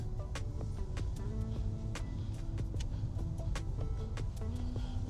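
A 2015 MINI Paceman S rolls down out of a parking garage with a low, steady engine rumble, while scattered clicks and short creaks sound close by inside the cabin.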